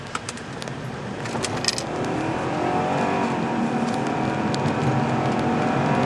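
A Mercedes E500 luxury sedan accelerates hard from a launch, a steady engine roar building and holding loud and close throughout, heard from inside the cabin with a few small rattles early on.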